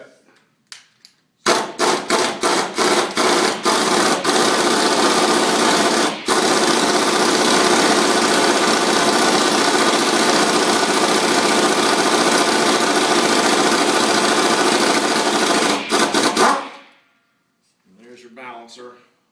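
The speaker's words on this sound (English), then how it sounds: "And an air gun. And we can usually get that off of there relatively easy, especially on Ford." Pneumatic air gun hammering a harmonic balancer off a Ford small block 289 V8, loud and close, starting with several short rattling bursts, then a long continuous impact chatter for about fifteen seconds before it stops, followed by brief talk.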